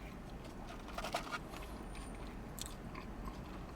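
Crunching bites into ribbed potato chips loaded with a Domino's cheese dip that resembles warm Kraft cheese spread, close to the mouth, a few crisp crackles clustered mid-way over a low steady background hum, no talking.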